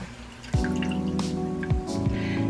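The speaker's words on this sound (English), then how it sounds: "You want to make sure you're draining off as much oil as possible." Hot oil dripping off freshly fried homemade potato chips as a batch is lifted out, giving a few soft, close drips over a low, steady background sizzle.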